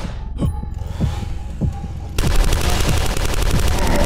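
Rapid pistol fire from dual pistols in the retro shooter DUSK: a fast string of loud, punchy shots that speeds up into a denser, more continuous burst partway through.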